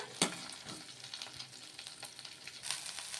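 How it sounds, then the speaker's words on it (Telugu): Sliced onions and green chillies sauté quietly in a pan, a soft steady frying hiss with occasional stirring scrapes; faint and close, no voices. "అలాగే పొడుగ్గా కట్ చేసి పెట్టుకున్న ఆనియన్ ముక్కలు ఇవన్నీ కూడా వేసుకొని ఒకసారి బాగా కలిపేసుకోవాలి ఇవన్నీ కూడాను మగ్గించుకోవాలి బాగా"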